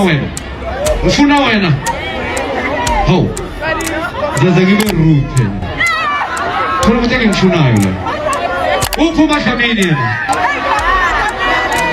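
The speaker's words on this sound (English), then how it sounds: "to being booed by tens of thousands of fans" Dense crowd of tens of thousands of fans at an Amapiano music concert, a sustained roar of voices with rising and falling shouted calls, loud and continuous throughout.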